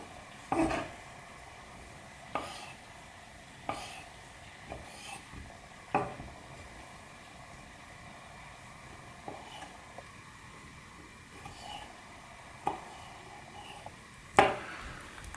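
MKM Flame Dagger knife slicing through fruit during food prep, a string of soft, sparse cuts and taps against a board spaced a second or two apart, with a quiet gap in the middle.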